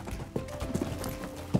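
Horse hooves clip-clopping during a riding lesson, a quick rhythmic series of muffled thuds on soft ground at close range, with faint voices in the background.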